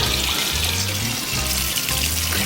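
Water poured into an Aquael Hypermax 4500 BT aquarium canister filter, a steady close rush of filling liquid with pulsing low gurgles.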